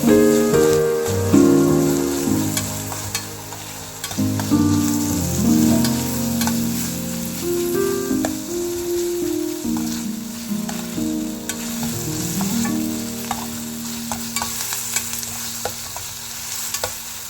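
Onion and tomato fry and sizzle in a pan for a Karnataka ridge gourd dish, with a spatula stirring and scraping in uneven bursts over a steady crackle, close and fairly loud, while music plays throughout.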